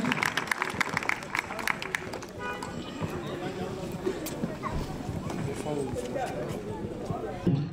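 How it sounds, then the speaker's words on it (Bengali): An audience at a picnic gathering claps, a dense patter of many hands that goes on steadily for several seconds over crowd murmur, with voices heard in the mix. "সবাই জোরে হাততালি দিন।"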